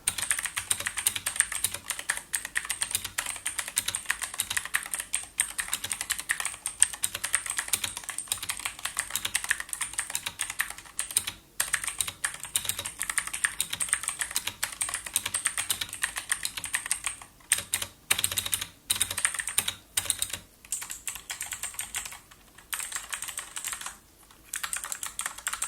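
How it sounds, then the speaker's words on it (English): Continuous typing on a Redragon K552 mechanical keyboard with Outemu switches, rapid clacky keystrokes close up with brief pauses toward the end; no talking. "here's the soundtest of my current keyboard."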